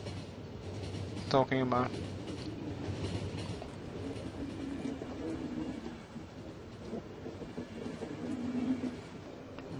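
A train in the video game The Final Station rumbles along steadily with a continuous rattling roll, fairly quiet, under someone talking.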